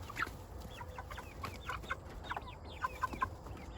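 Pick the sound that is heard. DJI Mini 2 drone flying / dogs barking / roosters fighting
roosters fighting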